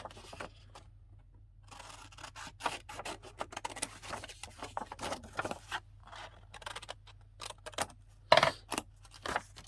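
Scissors snipping through paper for a December daily scrapbook page, a quiet close series of short crisp cuts in irregular bursts, with a louder rustle near the end and no speech.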